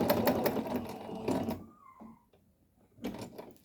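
Close by, a sewing machine stitches a child's vest in a fast, rattling run lasting about a second and a half. After a brief near-silent pause, it starts up again for a shorter second burst.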